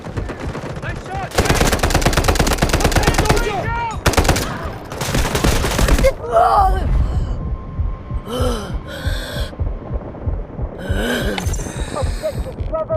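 Sustained automatic gunfire from a Delta Force video game battle in the Cracked zone, loud dense bursts over the first six seconds, then scattered shots, explosions and distant firing with brief radio-style voices.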